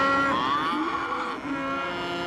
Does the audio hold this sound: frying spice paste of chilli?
no